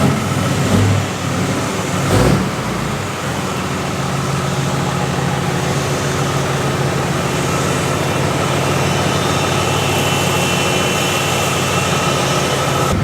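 A pickup truck engine drones loud and close inside the cab while driving after towing trouble. The low rumble stays steady and continuous, with a brief knock early on and no talk.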